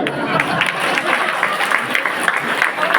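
Audience at a stand-up comedy show breaking into steady, sustained applause, a dense crowd clapping throughout.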